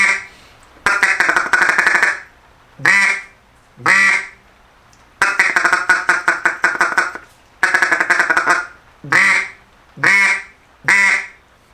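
A blown duck call runs through sequences of rapid quacking chatter, mixing feeding-style bursts with short single calls, loud and close with brief pauses between phrases.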